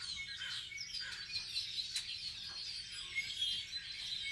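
Birds chirp and sing outdoors, a continuous chorus of thin, high twittering calls at a moderate distance, faint but steady with a few sharper tweets standing out.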